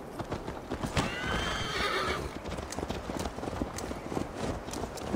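A horse's hooves clip-clop steadily under a rider in the Viking-era video game Assassin's Creed Valhalla, with a whinny partway through and faint ambient game sound.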